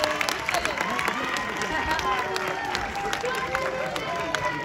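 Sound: crowd applauding the tournament finalists

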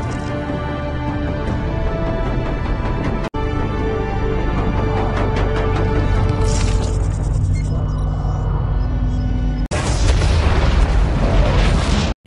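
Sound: bomb explosion in the Halo Nightfall series

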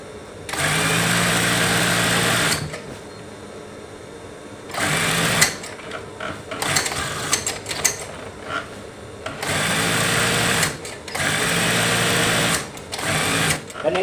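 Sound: sewing machine sewing a fitted bed sheet

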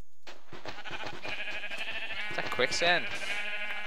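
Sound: sheep bleating in video game Minecraft

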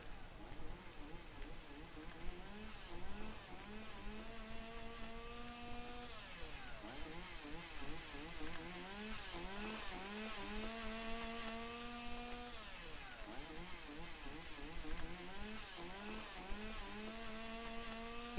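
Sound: chainsaw cutting trees in the video game Lake

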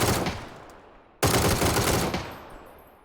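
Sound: gunfire in a video game

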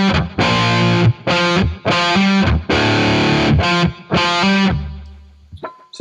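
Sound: distorted electric guitar riff in drop D

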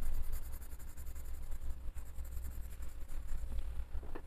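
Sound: coloring with Auchan colored pencils

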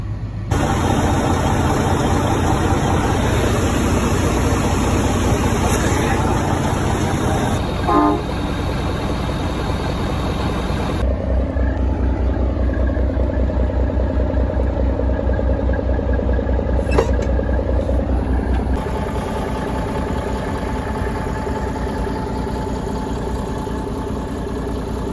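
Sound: Cummins N14 diesel engine idling in hay truck

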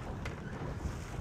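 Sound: sailboat tacking in wind

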